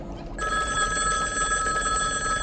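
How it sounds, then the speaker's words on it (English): A telephone bell rings loudly and continuously after a brief quiet start, close and alone with no talking. "A ringing phone."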